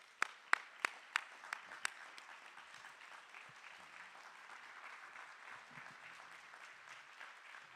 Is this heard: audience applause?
yes